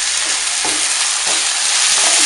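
Rice grains sautéing in hot oil in a pot for pilaf give a loud, steady sizzling hiss, broken by a few soft stirring strokes roughly every half second to second; no voices.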